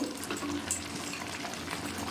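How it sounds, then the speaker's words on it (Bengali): Chicken kosha, a Bengali spiced chicken dish, sizzles softly in a pan as it is stirred after cooking covered, a steady low frying hiss with light scraping throughout. "3 মিনিট পর ঢাকনাটা খুললাম, খুলে নেড়ে দিলাম। মাংস কষাটা হয়ে গেছে এবং তেল ছেড়ে দিয়েছে।"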